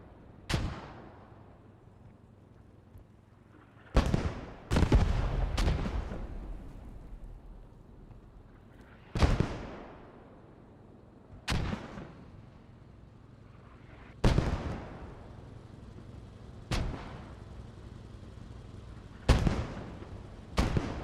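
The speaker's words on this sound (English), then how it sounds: "Mortars still going out on either side." Mortar rounds in Post Scriptum boom repeatedly during a Market Garden battle, about eight heavy blasts spread irregularly a few seconds apart, each with a long rumbling decay, some close and loud, others more distant, with no talking.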